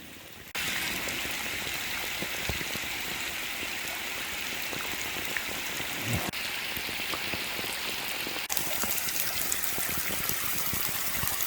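Steady rain falls outdoors beside the lower Murray River, a dense continuous patter of drops on surfaces with no talk, holding an even level throughout.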